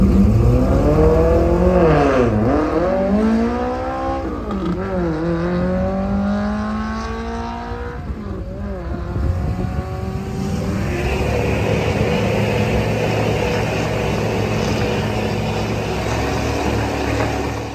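Drag race cars launch and race down the strip, with loud, close engine roars rising and falling through gear changes and then settling into a sustained, high, droning run.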